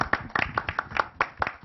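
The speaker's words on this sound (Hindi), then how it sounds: "एक बार जोरदार ताली एवरीबॉडी" Audience applause at a Khatron Ke Khiladi new-season launch event: a short burst of brisk, fairly close hand clapping with sharp, irregular claps.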